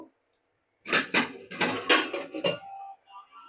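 A lid clatters onto a pot of pumpkin curry, a cluster of quick metallic knocks and scrapes close up, followed by a faint ringing sizzle.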